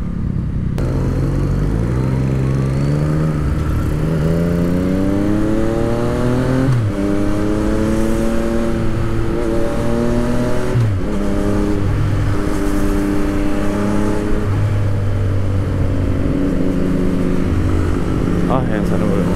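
A 2015 Yamaha MT-09 naked bike's engine revs up and drops back repeatedly, up close and loud, in a series of rising and falling sweeps with short pauses between.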